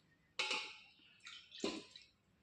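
Water scooped off the top of fermented sour buttermilk in a home kitchen: two or three soft liquid splashes and drips, close and fairly quiet, with brief gaps between them.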